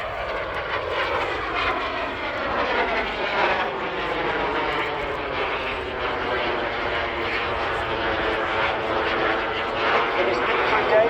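A BAC Strikemaster jet flying a solo airshow display at Southport produces a continuous, loud engine roar with a sweeping pass. A commentator speaks over the noise throughout.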